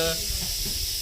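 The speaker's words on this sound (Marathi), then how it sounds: "साऊंड त्याचा कुकराच्या सिटीप्रमाणे जोरजोरात आवाज करतोय भीती वाटल्यानंतर" A loud, breathy hiss from a Russell's viper, airy and sustained like a pressure cooker whistle, filling one short burst close to the listener.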